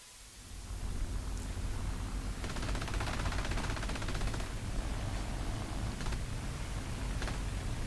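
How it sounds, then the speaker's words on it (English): Aircraft machine guns fire in War Thunder air arcade combat, a dense continuous rattling burst roaring steadily over engine noise for several seconds, loud and close. "Oh, we're already shooting right away."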